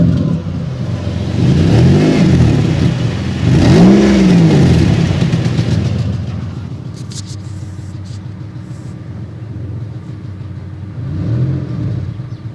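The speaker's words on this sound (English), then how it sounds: "Let's give her a little rev action." A $500 Pontiac Grand Prix that won't pass an emissions check revs up close three times, the engine climbing and falling in loud sweeping surges, with a quieter raspy idle between the second and third revs.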